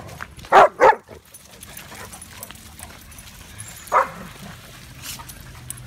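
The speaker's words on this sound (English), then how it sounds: "you're just barking for fun, aren't you?" A dog on an afternoon walk gives two quick sharp barks close by, then one more bark a few seconds later, over quiet outdoor background noise.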